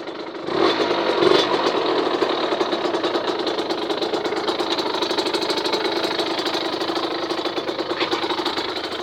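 A Gilera SMT 50 two-stroke moped with an aftermarket Conti exhaust idles with a raspy, buzzing note, steady and close, with a couple of brief blips near the start.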